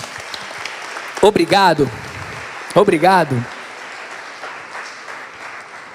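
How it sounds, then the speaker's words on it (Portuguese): A crowd claps in steady, sustained applause while someone speaks briefly over it. "a gente vai aplaudir todos vocês agora"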